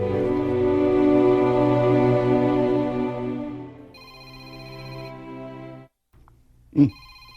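A telephone ringtone plays loud and close for an incoming call, a steady layered electronic melody that shifts pitch partway through, stops, and is followed by a short sharp sound.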